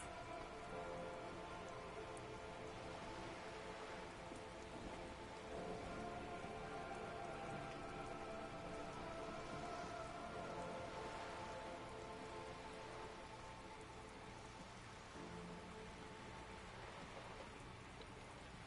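In the Disco Elysium video game, rain falls steadily onto wooden boards and surrounding water, a dense, continuous patter and hiss that holds evenly for the whole stretch with no voices.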